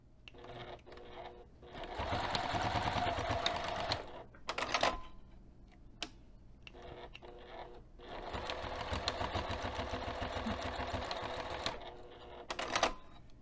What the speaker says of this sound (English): I'm going to take this over to the sewing machine, and I'm going to stitch 1/8 inch away from the edge of the fabric